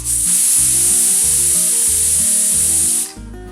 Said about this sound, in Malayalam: ഒരു വിസിൽ വന്ന ശേഷം സ്റ്റൗ ഓഫ് ചെയ്യാം